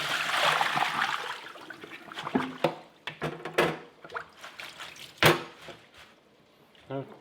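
Rinsed basil leaves strained in a kitchen, with water pouring and draining at first, then intermittent splashes, drips and clattering knocks close by.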